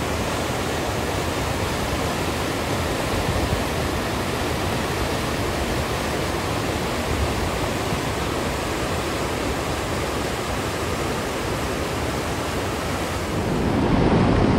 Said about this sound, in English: Not sure if you can hear me over the water, but I come down here to this waterfall